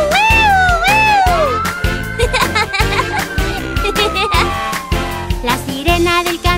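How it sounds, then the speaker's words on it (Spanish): A fire truck siren in a children's Halloween song rises and falls in wailing sweeps over loud, bouncy music, with children's voices singing along. "La sirena del camión de bomberos suena."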